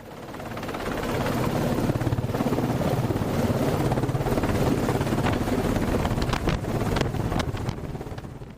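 Helicopter hovering low over a ship's flight deck during a landing, its steady rotor and engine roar continuous and loud throughout, mixed with wind buffeting across the microphone.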